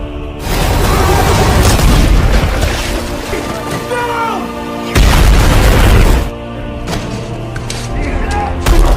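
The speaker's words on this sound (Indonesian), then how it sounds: "Namun tiba-tiba musuh melemparkan sebuah granat yang posisinya tak mungkin lagi mereka bisa hindari." A grenade blast in an action film sounds as a heavy, loud boom with deep rumbling and crashing debris, followed by a second booming burst and tense dramatic background sound.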